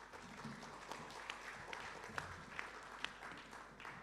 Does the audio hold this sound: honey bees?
no